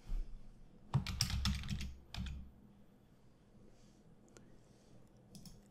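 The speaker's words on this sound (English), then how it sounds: "now I'm going to type reset" Quick burst of typing on a computer keyboard, a cluster of close, crisp key clicks followed by a few scattered taps and quiet pauses, no voices.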